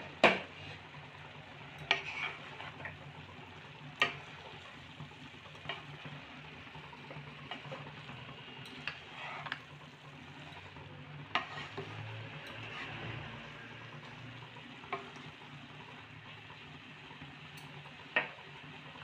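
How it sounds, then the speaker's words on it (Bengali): Grated carrot halwa being stirred in a pot, with soft scraping and occasional sharper clinks of the spoon against the pot over a faint background hiss, no talking. "এইভাবে আমরা মাঝে মাঝে ঢাকা খুলে নাড়তে থাকবো যতক্ষণ না গাজরের কাঁচা গন্ধটা যাচ্ছে।"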